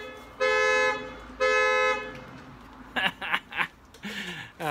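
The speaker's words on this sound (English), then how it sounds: "That's my alarm." A vehicle alarm on a VW Bus honks in two long, loud, nasal tones, followed by a rapid series of shorter, choppy horn blasts, close and alone.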